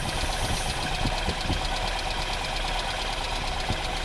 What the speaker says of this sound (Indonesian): Ini lagi biang penyebab kok jadi nggak enak stasionernya, karena ini selang vakumnya lepas ya